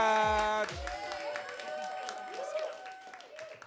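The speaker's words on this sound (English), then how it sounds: "Keep that clapping going for your host tonight" Audience clapping and light cheering at a live comedy show in a hall, a loud burst that carries on steadily under a stage host's voice and a sustained musical tone.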